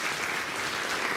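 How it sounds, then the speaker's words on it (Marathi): A crowd claps for Sunita tai at an ASHA workers' awareness event, a dense, even burst of applause filling the room. "ताईंसाठी आपण जोरदार टाळ्या वाजूया"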